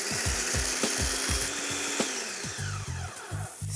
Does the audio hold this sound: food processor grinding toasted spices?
yes